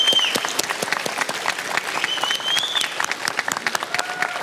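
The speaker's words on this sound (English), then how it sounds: "A round of applause for Team Brazil finishing in third place." An evening awards crowd at the GT World Series 2023 Nations Cup showdown gives Team Brazil a dense, steady round of applause for finishing third, loud and close with many overlapping claps throughout.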